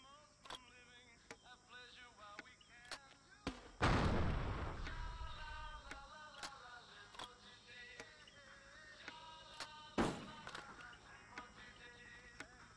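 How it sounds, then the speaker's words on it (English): Grenade launcher firing buckshot like a shotgun in the World War II-era shooter game Men of Valor: one heavy boom near 4 s with a long decaying rumble, a second sharp blast near 10 s, and lighter scattered thumps throughout. "I never knew you could use a grenade launcher like a shotgun."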